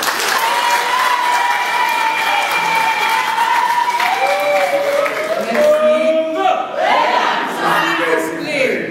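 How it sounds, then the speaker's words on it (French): A crowd at a talk on Patrice Lumumba's arrest breaks into dense, sustained applause, loud and steady throughout, with shouts and whistle-like tones rising over the clapping toward the end. "Applaudissez!"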